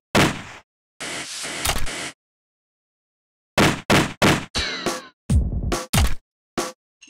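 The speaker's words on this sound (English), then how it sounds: "I wanted to use some sort of Foley gunshot effects" A series of sharp, punchy gunshot-like hits, some in quick pairs, separated by short silences, loud and close with no voices.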